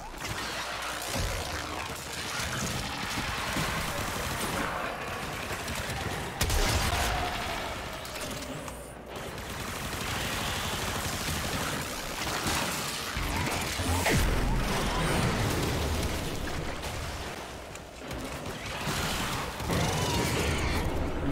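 Guns fire at a boss in the video game Warframe, a dense, busy stream of shots, impacts and mechanical clatter over a constant battle din, with short lulls in between.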